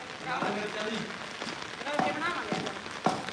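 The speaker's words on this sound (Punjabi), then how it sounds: "ਲਓ ਜੀ ਮੀਂਹ ਆਉਣਾ ਸੀਗਾ" Rain falls outdoors as a steady patter on surfaces. Several people talk nearby over the sound of the rain.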